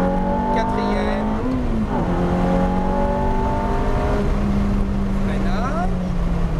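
A Ferrari F430 pulls hard on a track circuit in fourth gear, its engine note rising and holding loud and close. An instructor's voice talks over it.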